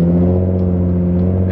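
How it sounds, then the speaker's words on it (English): A Jaguar F-Type exhaust with the muffler deleted hums in a steady, close, low droning tone at a constant engine speed, with no talk over it. "I have never heard so much droning from an exhaust in any car."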